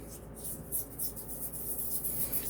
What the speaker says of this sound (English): I'm just going to raise some base stone slurry, nothing crazy.